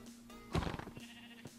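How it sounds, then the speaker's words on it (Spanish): A single sheep bleats once in Minecraft, a short wavering cry standing out over a faint steady background hum. "Ahí escucho ovejas"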